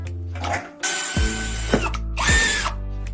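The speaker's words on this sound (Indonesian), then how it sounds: "Amankan dowel di penjepit dan bor lubang di dalamnya." An electric drill bores a hole into a wooden dowel secured in a clamp: a close, loud whine that starts and stops in short bursts, with a mechanical ratcheting rattle between runs.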